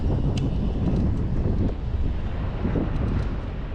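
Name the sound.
wind during scooter ride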